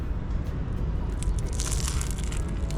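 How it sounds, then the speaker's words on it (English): Crunchy, flaky custard tart pastry with a crispy caramelized top being bitten into, close up, giving a dense run of crackling crunches over a couple of seconds with no talking. "It's super crunchy, super flaky pastry."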